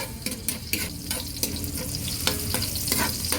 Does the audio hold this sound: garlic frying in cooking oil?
yes